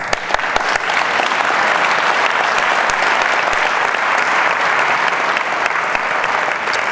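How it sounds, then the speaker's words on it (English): A lecture audience breaks into loud, sustained applause, dense clapping close and continuous for several seconds, with no talk over it. "Let's have a round of applause."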